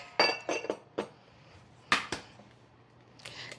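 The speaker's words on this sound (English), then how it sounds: "So we'll give this a good little stir" A utensil stirs buttermilk, melted butter and egg in a bowl, giving a few sharp clinks and taps against the side in irregular bursts, fairly quiet with pauses between.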